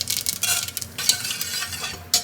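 Mustard seeds crackle and sizzle in hot sesame oil in a pan, a steady close hiss with brief pops, stirred now and then.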